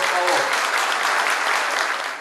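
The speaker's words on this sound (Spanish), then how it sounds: "Un fuerte aplauso para Igor," Loud, dense applause from a large crowd at a political rally, steady and sustained throughout.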